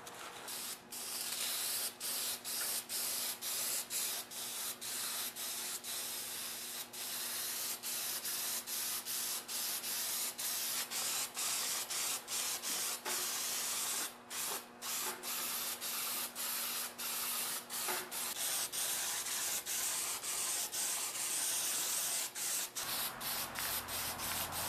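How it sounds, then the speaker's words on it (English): Oil-based coating sprayed onto a welding cart in a garage: a long continuous hissing spray from an aerosol can, broken by frequent brief gaps between passes, close and steady for over twenty seconds. "It is an oil-based product. And now I'm just going to spray it on."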